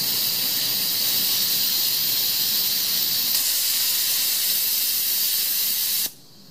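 Steady, loud broadband hiss of live steam escaping from a homemade steam engine fed by a homemade boiler at about 5 psi, continuous for six seconds before cutting off abruptly.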